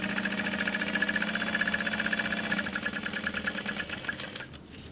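A sewing machine top-stitching backpack lining runs with a rapid, even mechanical whirr for several seconds, then slows into separate stitching pulses before it stops. It is close and moderately loud, with no speech.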